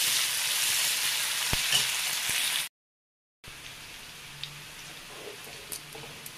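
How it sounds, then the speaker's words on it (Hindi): Sliced onions frying until brown for a new potato dish, a steady dense sizzle with faint stirring clicks, cut by a brief silent gap before the sizzle resumes more quietly. "अब मैं प्याज को ब्राउन होने तक भून लूंगी।"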